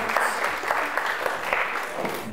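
Audience applause at a student book-quiz competition, a steady burst of dense clapping from a crowd that holds for a couple of seconds with a faint voice beneath.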